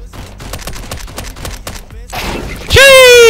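Video game gunfire: a quick run of about a dozen sharp rapid shots, a brief pause, then a louder burst and a closing loud blast with a ringing, falling tone.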